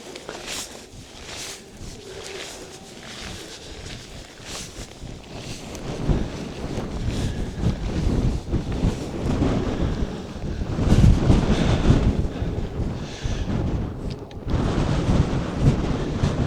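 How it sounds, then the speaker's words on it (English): Gusting wind buffets a microphone on exposed rocks at 20 to 25 mph. The roar rises and falls in uneven surges, growing louder and rougher in the second half. "there's probably about 20 mile an hour gusts at the moment, maybe 25"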